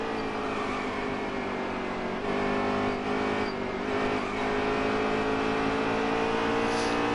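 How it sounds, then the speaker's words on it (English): Race car engine in the NASCAR Heat 3 video game, racing at ISM, roars steadily as it accelerates off a turn, a loud continuous drone rising slightly in pitch with no speech over it. "Accelerating off of turn number 2."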